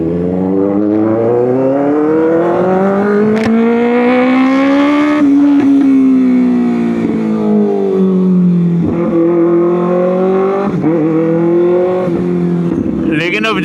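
A 2025 Kawasaki ZX6R sport bike with a loud modified exhaust revs up and down repeatedly, its engine pitch rising and falling in sustained sweeps close to the microphone, with sharp pops between revs.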